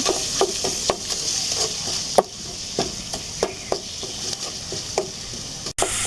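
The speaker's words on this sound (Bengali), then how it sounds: "মশলাটা ভালো করে নেড়ে দেবো" Spice masala with ginger paste, chili powder, turmeric and salt is stirred in a hot pan for cauliflower korma: a steady sizzle punctuated by repeated sharp spoon-on-pan scrapes and taps at an irregular rhythm, close up.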